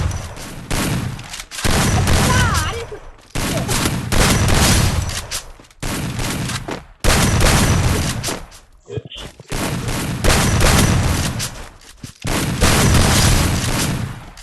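Shotgun fire in a mobile shooter game comes in loud, booming bursts, heavy blasts clustered in dense volleys separated by brief gaps, close and dominant throughout.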